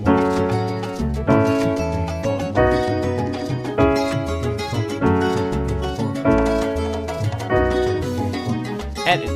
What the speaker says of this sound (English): you've got a play along track that will also guide you through the exact same chords at the exact same pace